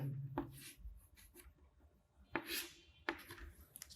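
Pen or pencil writing dimension values on paper for a diagonal scale drawing, with a few scratchy strokes separated by pauses, close and fairly quiet.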